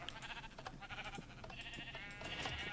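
Sheep bleating in the Minecraft video game, a few bleats layered over busy game sounds and clatter, fairly close and steady throughout.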